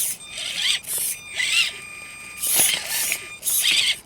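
An Injora motor in an RC rock crawler straining up a rock in low mode, whining and grinding in repeated surges with squealing gear noise, close and fairly loud, without talk.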